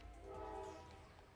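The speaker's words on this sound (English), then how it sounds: "Sorry for the train" A train horn sounds outside, a faint sustained tonal blast that swells and fades over about a second, carried over low rumbling rail noise in the distance.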